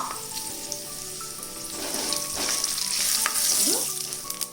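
Shallots, curry leaves and a pinch of asafoetida fry in a pan for tempering carrot rasam, giving a steady crackling sizzle that swells midway, with occasional spatters and a stir, close and alone.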